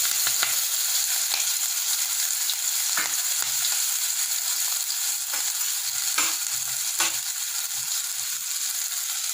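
Steady hot-oil sizzling and crackling from chopped green chillies frying in a pan, with a few sharper pops and scraping stirs, no voices.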